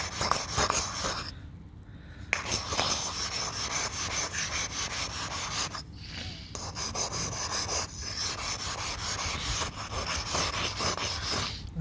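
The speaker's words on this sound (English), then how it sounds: "I'm just going to rub it against this" HyClor Block Magic pumice block scrubbed against calcium scale on pool tile, a loud, steady, gritty rasping close by, continuing almost without pause with a couple of brief breaks.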